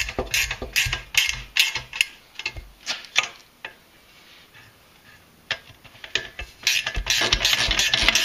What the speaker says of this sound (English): Okay, 10mm bolts going back in.